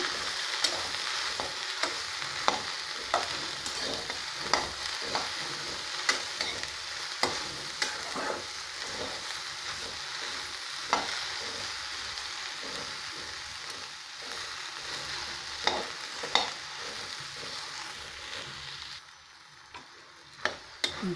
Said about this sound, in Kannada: 5-10 ನಿಮಿಷ ಇದನ್ನ ಚೆನ್ನಾಗಿ ಫ್ರೈ ಮಾಡಬೇಕು